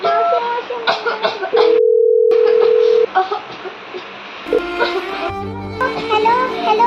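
A telephone dial tone hums steadily for about a second and a half as a call is placed, between bursts of excited voices. Further tones and pulses follow under continued talking.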